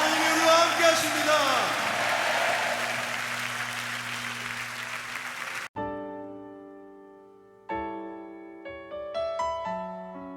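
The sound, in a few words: congregation applause in church service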